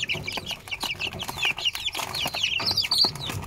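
Several chickens clucking busily at close range while eating maggots, overlapping short calls and squawks with a steady, lively rhythm, no talking.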